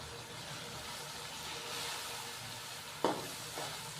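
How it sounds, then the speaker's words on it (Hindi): Spices with salt, crushed red chilli and red chilli powder fry in a pan, giving a faint, even sizzle with a single sharp clink of a utensil near the end. "अच्छे से मिक्स करेंगे और मसाले की भुनाई कर लेंगे हम 2 से 3 मिनट के लिए।"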